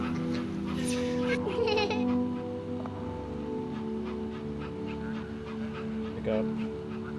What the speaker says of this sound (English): It's a real puppy.